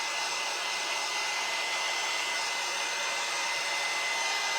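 A hair dryer blowing steadily on a fresh coat of paint on a stencil craft project, a continuous loud airy whir with an even hum and no pauses.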